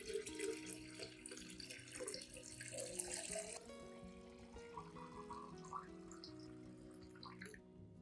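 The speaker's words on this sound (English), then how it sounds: "Add 1 liter of clean water at room temperature to dilute the solution." Clean room-temperature water pours into a container to dilute a homemade plant fertilizer solution, a faint, steady splashing and trickling with small drips.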